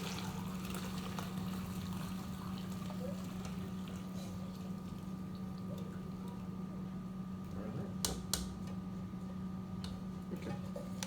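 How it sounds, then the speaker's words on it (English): Cinnamon tea is poured through a strainer in a continuous, soft liquid trickle that runs steadily, with faint clinks and a brief sharper clatter near the end. "So now I'm going to pour the rest."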